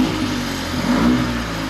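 A warmed-up Fiat 500 TwinAir two-cylinder engine idles, a steady close mechanical thrum with a low throbbing pulse and slight swells in level, with no voices.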